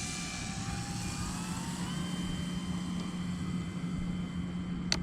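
An E-flite Carbon Z Cub SS, a giant-scale RC float plane, makes a slow flyby with full flaps, its electric motor a steady, moderate whine that shifts slightly in pitch as it passes.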